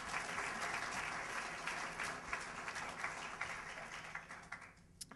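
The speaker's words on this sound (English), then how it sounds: "So please, let's give everybody a big round of applause." An audience at a talk on preserving Lautner architecture applauds, with dense, steady clapping from a seated crowd that thins out near the end, heard with no talk over it.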